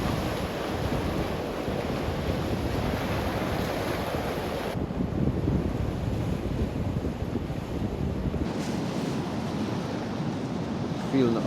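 Surf breaks steadily on a rough-ground rocky shore with kelp in Northumberland, a broad continuous wash of waves under heavy wind buffeting on the microphone, fairly close and without pause.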